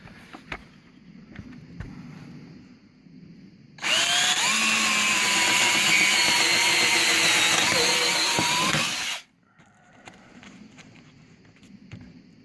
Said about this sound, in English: so we're just going to drill a small second hole right next to it.